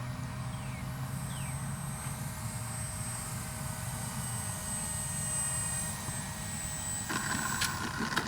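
A Kavan Bristell B-23 RC airplane's engine drones steadily, a sustained mid-distance hum with a slight rise near the end, no voices.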